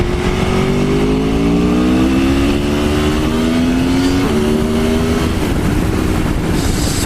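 An Aprilia Tuono motorcycle rides along a road, its engine note climbing steadily through a gear then shifting and continuing, loud and close, with no talk.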